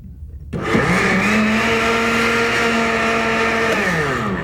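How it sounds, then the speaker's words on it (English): Papermaking blender churning recycled paper pulp together with corn husk pulp; the motor kicks on after a brief pause and then whirs loudly and steadily to the end, with no talk. "turn the blender on."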